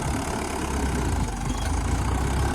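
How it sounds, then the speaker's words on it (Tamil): A tractor engine drones steadily and loudly up close while pulling a plough through a peanut field, its rough low rumble continuous with no voices. "டயர் சுற்றுது பாருங்க, வண்டி டிராக்டரே தூக்குது அப்படியே."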